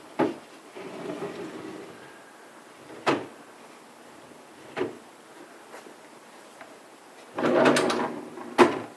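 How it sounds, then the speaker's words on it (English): Drawers on epoxy-coated slides are opened and closed in a cabinet, making several short sliding rumbles and sharp knocks spread apart. A longer, louder flurry of sliding and clunking comes near the end. "And there we have two functioning drawers."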